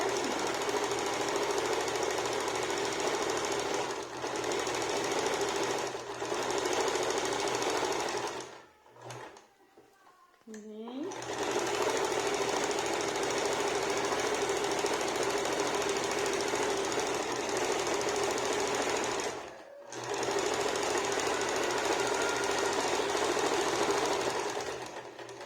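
A sewing machine stitches all the way around a fabric multipurpose bread bag in long, loud, steady mechanical runs. It stops briefly twice, once with fabric being handled, and the motor whines as it starts up again.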